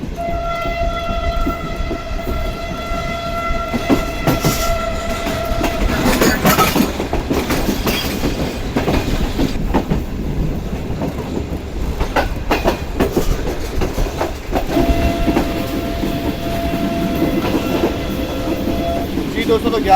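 The 46 Down Pakistan Express passenger train rolls along the rails, a steady loud rumble with clickety-clack wheel beats and tonal whines, heard close from onboard for the whole stretch.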